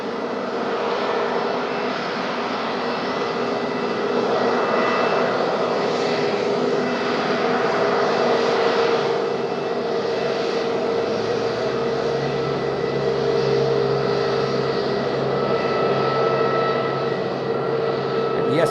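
An EasyJet airliner at Madeira Island Airport in windy conditions gives a loud, steady jet-engine roar that holds for the whole stretch, with the pitch shifting partway as the aircraft passes close by.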